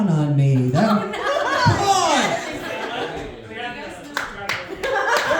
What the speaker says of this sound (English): I'm clapping for that.